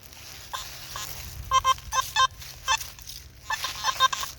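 Warbling electronic beeps from a Nokta Makro Simplex metal detector over ground littered with iron and cans pop up in quick irregular bursts, tones jumping in pitch over a faint background hiss.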